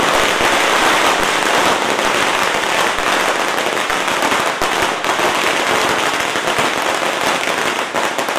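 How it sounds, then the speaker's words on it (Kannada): Dense firecrackers crackle and pop nonstop as party workers welcome a JDS candidate at an election campaign rally, loud and continuous throughout. "ನಂತರ ಅವರ ಅಭಿಮಾನಿಗಳು, ಕಾರ್ಯಕರ್ತರು ಪಟಾಕಿ ಸಿಡಿಸಿ"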